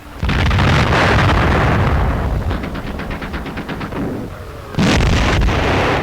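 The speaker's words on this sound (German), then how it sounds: "Einschläge der sowjetischen Batterien" Soviet artillery shells hit the ground in a 1943 wartime newsreel as heavy, loud rumbling blasts that keep going. Rapid crackling bursts sit on top, then the sound drops briefly before a sharp new impact.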